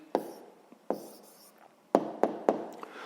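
A pen writes an answer on paper, quiet scratchy strokes broken by several sharp taps as the tip touches down, spaced irregularly and heard close up without any voices.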